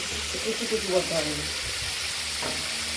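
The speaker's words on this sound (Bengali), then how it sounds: "সর্ষের ফোড়ন দিয়ে গরম তেলে আমরা সর্ষে ফোড়ন দিয়ে দিয়েছি।" Mustard seeds crackle and sizzle in hot oil with a steady, dense frying hiss, a few louder pops early on and a faint voice beneath.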